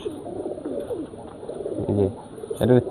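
Giribaz pigeons coo in soft, throaty, rolling phrases close by, with two fuller bursts of cooing standing out near the end.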